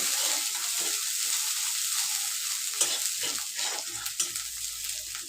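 Ginger frying in hot oil with half a teaspoon of turmeric powder, a steady close sizzle with light crackles and a few brief stirring scrapes, no talk.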